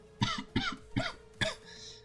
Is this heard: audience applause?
no